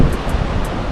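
Strong wind gusting on Peninsula Beach at Lloyd Bay, a loud, constant roar with buffeting against the microphone and surf mixed in, with no voices.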